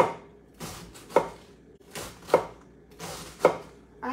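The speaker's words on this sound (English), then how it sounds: "I'm just going to cut some cabbage" A knife cuts through cabbage on a cutting board during cooking of shrimp and rice noodles, giving four crisp, evenly spaced chops about a second apart, close and clear in a quiet kitchen.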